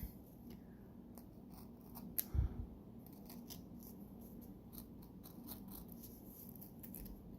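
Small scissors snip paper for Scherenschnitte, a series of faint, crisp little cuts in an irregular rhythm, close but very quiet, with one louder snip partway through and no talking.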